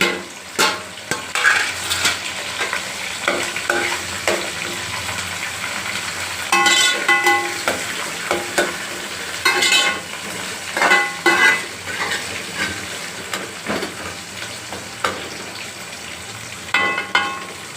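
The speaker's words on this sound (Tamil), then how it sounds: "வதங்கிட்டு முழுசாக போட்டு வதக்கிடுறேன்" Shallots, crushed garlic and curry leaves sautéing in a pan for a sardine curry, with a continuous crackling fry under repeated spoon scrapes and metal clatter.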